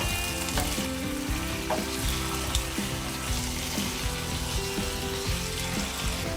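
Raw prawns, half a kilo, being stirred in a hot pan for a gongura prawn curry, with a steady close sizzle and frying crackle under occasional soft scrapes of the spoon, no talking.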